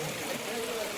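A cold mountain stream on the Velliangiri hill trail flows with a steady, faint rushing hiss that stays even throughout, with no clear talk over it.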